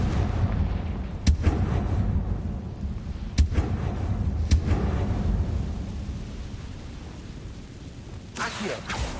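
Repeated Confringo fire-spell blasts in the video game Hogwarts Legacy: three sharp booming cracks over a dense rumbling battle background, followed by a brighter burst near the end.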